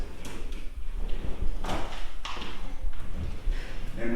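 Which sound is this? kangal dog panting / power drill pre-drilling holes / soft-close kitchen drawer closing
soft-close kitchen drawer closing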